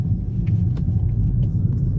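A 2022 Toyota Prius Limited hybrid in eco mode rolling over road bumps, heard from inside the cabin as a low, steady road rumble with a few soft knocks as the tyres hit the bumps.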